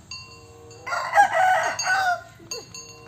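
A rooster crows once in a clear, fairly close cock-a-doodle-doo lasting over a second, with faint background chatter and small farmyard noises around it.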